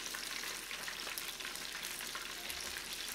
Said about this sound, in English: What I did is I fried this the second time.